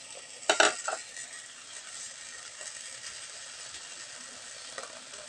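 Garlic fries in a pan for fish paksiw, a steady hiss of sizzling oil opened by a brief clatter of utensils against the pan near the start, then settling into even frying.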